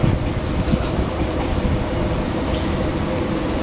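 A train rumbles steadily past at Weybridge on the South Western Main Line, bound for Woking, a continuous close, loud roar of wheels and carriages with faint rail clatter throughout.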